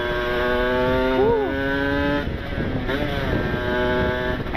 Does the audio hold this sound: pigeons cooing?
no